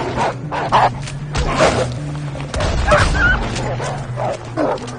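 A dog in the video game Red Dead Redemption 2 barks and yips repeatedly in short bursts, fairly close and loud, over game background noise.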